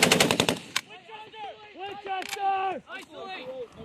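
Rapid machine-gun burst from a US Marine M240B during a platoon defense drill, a fast loud volley in the first half second, then a lone shot, with shouted talk following.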